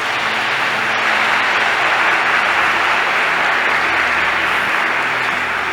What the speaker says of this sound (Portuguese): A Ele uma salva de palmas.